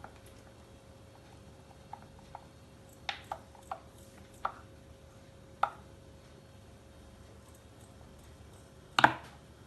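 Foaming, fermenting homemade pineapple wine stirred in its container, heard as sparse soft knocks and scrapes of the spoon in a quiet room, ending with one louder clatter.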